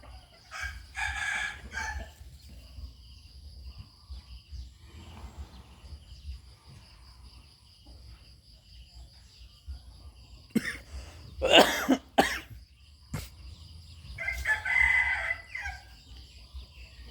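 A rooster crows twice, fairly close and loud, with quiet pauses in between and a faint background hum.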